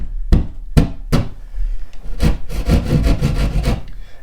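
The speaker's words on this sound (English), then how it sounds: "Taking your drywall saw, doesn't matter where you start." A hand drywall saw punches into a wall, with a few sharp stabbing hits followed by quick, rough rasping strokes, close and loud with no speech.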